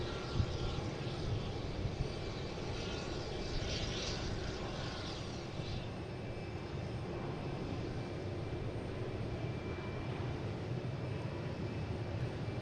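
Continuous broad roar of airliner jet engines at Boston Logan airport at night, heard from a distance with a steady, unbroken rumble and no talk.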